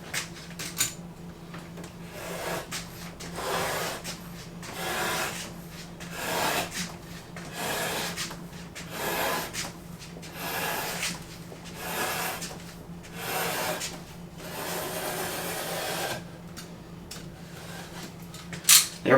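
A fairly new blade slices through a leather hide held against a clamped straight edge, giving a series of soft, rhythmic rasping strokes at close range with no talk.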